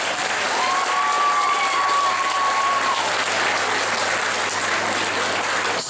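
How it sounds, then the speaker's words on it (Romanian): Audience applause at a school Comenius project event in Simleu Silvaniei, 2013, a steady roar of many hands clapping together at constant strength, with a faint tone briefly rising above it. "vă rog să vă aplaudați singuri. Meritați toate aplauzele posibile!"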